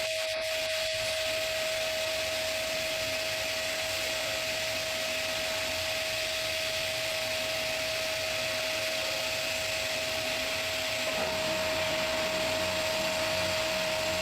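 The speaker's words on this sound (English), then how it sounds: "Different abrasive materials and sizes yield different finishes, and here he is using brown aluminum oxide." Brown aluminum oxide abrasive blasting the bare metal of a 70-year-old train lamp, a steady loud hiss and roar running unbroken throughout with a constant whine, no voices.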